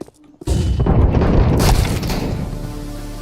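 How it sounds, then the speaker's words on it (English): A flashbang grenade going off in the game CS2: a loud, sudden burst lasting a few seconds, followed by a ringing, fading tail. "I'm throwing the flashbang."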